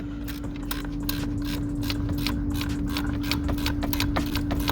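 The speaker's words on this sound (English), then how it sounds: "get the ratchet spanner" A ratchet spanner clicks steadily while undoing a bolt on a 2018 Skoda Superb gearbox, a fast run of sharp ratcheting ticks over a constant background hum, close up and without speech.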